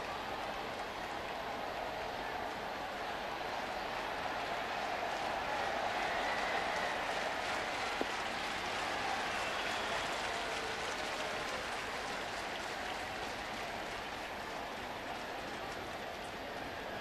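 A large baseball crowd at a Cardinals home game applauds and cheers after a two-run homer, a steady, dense wash of clapping and roar that holds at an even level throughout.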